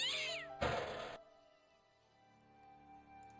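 A cat in the point-and-click game Broken Sword gives a single clear, close meow, then quiet game ambience with a faint steady hum.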